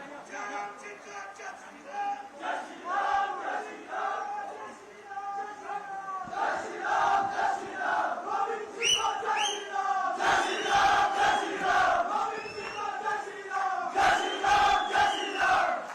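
A large crowd at an outdoor public rally on a fairground marking a state anniversary cheers and claps loudly and continuously, with roars swelling and a voice shouting over the din.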